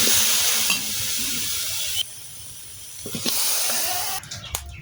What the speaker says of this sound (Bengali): একটা বড় কড়াই বসায় দিলাম। আমি অল্প অল্প করে টমেটোগুলো দিয়ে দেবো।